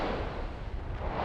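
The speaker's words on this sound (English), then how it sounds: "That's a fabulous explosion, but it's relatively small." A small volcanic explosion, heard as a dense roaring blast of broad noise that sustains evenly with no voices over it.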